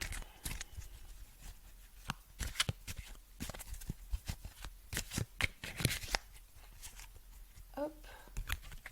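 A tarot deck being shuffled and cut by hand: close, crisp riffles and soft slaps of cards in irregular bursts, with a voice speaking quietly now and then.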